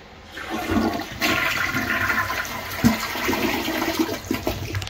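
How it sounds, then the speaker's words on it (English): A newly installed toilet flushes close by, a loud rushing gush of water that swells and then settles into steady draining and refilling for several seconds, with no talk. "And now we're going to flush."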